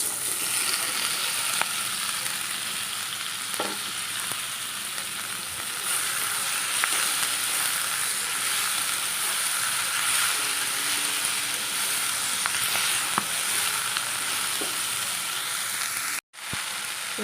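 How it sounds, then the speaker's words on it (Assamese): Chopped red vine spinach frying in a hot pan, a steady dense sizzle that runs close and even throughout, broken only by a brief sharp dropout near the end, with occasional faint stirring clicks. "এতিয়া মই কাটি ৰখা শাকখিনি ইয়াত ঢালি দিছোঁ।"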